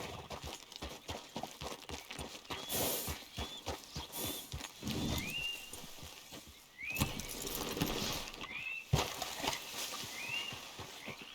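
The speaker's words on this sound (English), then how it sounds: "The goddamn horse got spooked and run off." Horse hooves clip-clop in a galloping rhythm through a Red Dead Redemption game scene, with several short whinnies and neighs rising over the steady hoofbeats, close and moderately loud.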